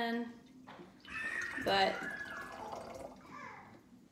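Water poured by children into a container of pink-tinted water during a hands-on pollution science lesson, giving a soft splashing trickle of about two seconds beneath an adult voice talking.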